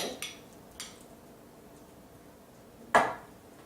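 Cherry banana ice cream scooped into a bowl: a few soft scrapes and light clinks of a spoon, with one louder knock near the end, set against a quiet room.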